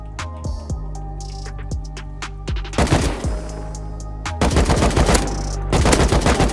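In the Rust video game, gunfire hits the driver of a camper vehicle: loud single shots come first, then rapid automatic bursts and dense volleys that echo close by.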